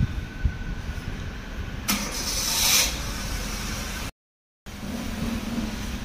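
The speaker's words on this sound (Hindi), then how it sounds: "शुक्र है यार स्टार्ट हो गई, सुबह भी बंद हो गई थी आज" A car with a habit of stalling is cranked and starts: a low idle rumble, then a bright burst of the starter and engine catching, followed by the engine running, with a brief cut of silence.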